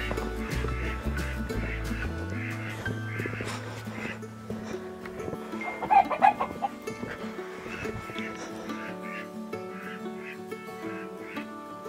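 Hens cluck and murmur in a busy coop on a snowy winter morning, with a rooster call rising briefly midway over steady low rumbling and shuffling.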